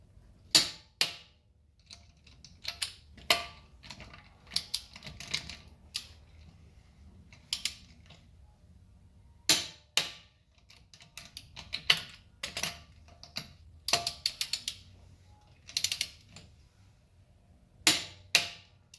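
A series of sharp, dry clicks and ticks from a torque wrench reaching its set torque while mounting a tire, spaced irregularly, fairly quiet and close, with short pauses between bursts.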